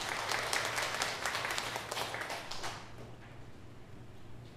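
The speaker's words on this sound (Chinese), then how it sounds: "郑县人为师母公拍拍手" A church congregation claps in a burst of dense, fairly loud applause for a couple of seconds, which then quickly fades away into quiet room noise.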